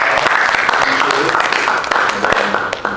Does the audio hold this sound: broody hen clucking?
no